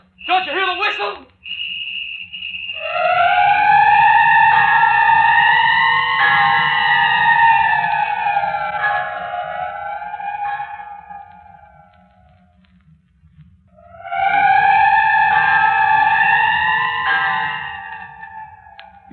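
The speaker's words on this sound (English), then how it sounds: "Don't you hear the whistle?" A sustained whistle effect from an old-time radio mystery drama rings out in a long steady blast with a wavering tone, falls silent, then sounds again, with a low rumble running underneath.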